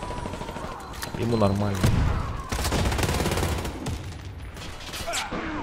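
Gunfire in the video game Warface, including a sniper shooting from a corner: a dense run of shots under a voice speaking Russian, loud and continuous.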